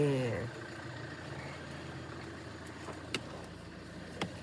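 A car sits idling as it is readied to be driven out of a parking area, a steady low engine hum close by, with a couple of sharp clicks or knocks partway through.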